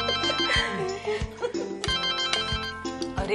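A phone rings with a melodic ringtone at home, a repeating musical pattern with steady low pulses, moderately loud and filling the whole stretch without any talking over it.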